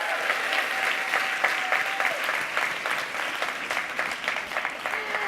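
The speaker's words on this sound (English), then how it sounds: "Give yourselves a round of applause." An audience at a women's empowerment event gives itself a round of applause, a full, sustained clapping from a crowd heard at moderate distance, with faint voices and cheers mixed in.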